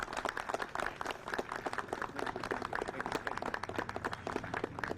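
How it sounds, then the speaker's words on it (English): An audience at a civic meeting claps in a brisk, continuous round of applause. The sharp overlapping claps are heard at a modest distance and stay fairly quiet throughout. "So let's give a big round of applause to Mayor Johnson for that."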